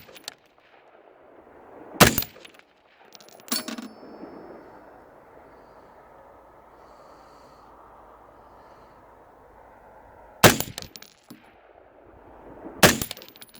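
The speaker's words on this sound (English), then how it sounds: "Let's flip this thing off safe and see if we can take a couple shots" Rifle shots fired through a Leupold VX-1 scope crack out outdoors, four sharp loud reports spread across the clip, separated by quiet wind-like background.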